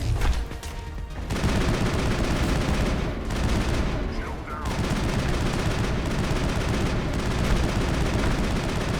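Sustained gunfire from the Mass Effect video game pours out in loud, dense volleys with brief pauses between bursts, and a voice can be heard beneath the shooting.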